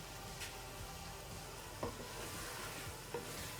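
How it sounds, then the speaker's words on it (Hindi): Potatoes and meat frying in a pan for Sindhi biryani, a soft continuous sizzle with occasional stirring scrapes, heard close and fairly quiet. "आलूओं को भी बस थोड़ा सा गलाना है और इनका कलर चेंज करना है"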